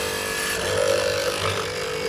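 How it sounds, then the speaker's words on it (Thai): A square-hole mortising machine drills into soft wood with a steady motor whine and a grinding bite that swells briefly, close and moderately loud. "เดี๋ยวผมจะลองเจาะให้ดูนะครับ"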